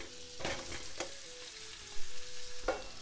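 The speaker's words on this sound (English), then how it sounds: "Let's dump our onions in." Onions dropping into a full stick of melted butter in a big skillet over medium-low heat, a steady soft sizzle with a few clattering stirs and thumps.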